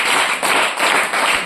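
An audience at a church sermon bursts into loud, dense applause, with many hands clapping together close and continuously in short surging waves.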